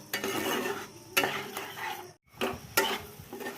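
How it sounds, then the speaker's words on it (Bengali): Spice masala stir-fried in a pan, fairly quiet, with repeated scraping strokes of the spatula and clinks against the pan, broken by a brief pause. "মশলাটাকে ভালো করে কষিয়ে নিচ্ছি"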